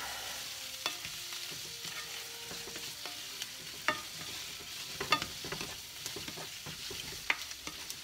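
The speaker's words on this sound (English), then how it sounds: "And then I just give it a nice little stir." Cheesesteak filling of meat frying in a pan, a soft steady sizzle broken by repeated spatula scrapes and taps as it is stirred, heard alone without talk.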